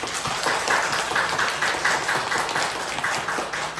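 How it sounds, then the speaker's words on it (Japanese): A Japanese church congregation claps to welcome a new pastor couple and their daughter during Sunday worship, a moderate, slightly rhythmic patter of many hands at middle distance, steady for a few seconds. "拍手を送りまし"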